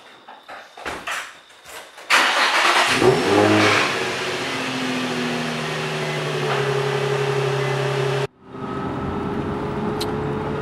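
A Nissan 350Z engine pulls away and accelerates on a test drive after a brake upgrade with ceramic pads, rising to a loud, steady drone before cutting off abruptly and settling to a quieter cabin hum.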